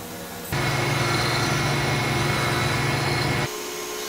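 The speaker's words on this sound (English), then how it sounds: "so I'm just turning one down on the collet lathe" A collet lathe turns down a split collet adapter for mounted points, giving a steady, loud motor whine that starts abruptly, holds for about three seconds, then drops back to a quieter hum.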